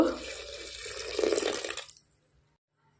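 Water is poured into a pot holding masoor lentils and chopped ridge gourd, a close, steady gushing splash lasting about two seconds before it stops abruptly into near silence.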